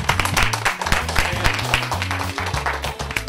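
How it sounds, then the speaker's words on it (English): A class gives a burst of applause, many hands clapping in a dense, lively patter close by, with some voices and cheering mixed in. "I just want to give you all a round of applause"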